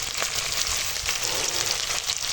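Shrimp coated in turmeric, with Kashmiri chili powder, hot chili powder, turmeric powder and salt, sizzles steadily in a hot pan as the spices fry, a continuous close hiss without talk.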